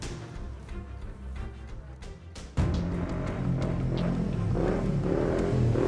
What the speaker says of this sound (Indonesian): kepala saya nyut-nyutan denger suara berisik tuh motornya